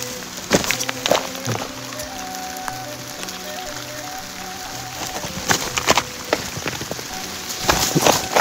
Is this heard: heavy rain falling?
yes